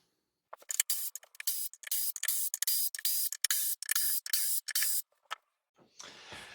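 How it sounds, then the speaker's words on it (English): A power tool buzzes in a quick series of loud bursts with short gaps while an access panel is removed from a wooden DIY opal cutting machine held together with wood screws, ending in a softer hiss, with no talk. "So I'll do that, take that panel off first."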